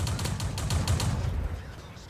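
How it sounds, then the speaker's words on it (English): Tank gunfire in the World of Tanks video game, a rapid series of sharp bangs in quick succession followed by a fading rumble, loud and close. "Getting shot by an LTP way up there in the distance."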